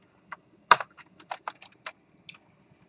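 Keys on a computer keyboard are struck in a quiet room, a sparse run of about a dozen close, distinct clicks with one harder tap early on.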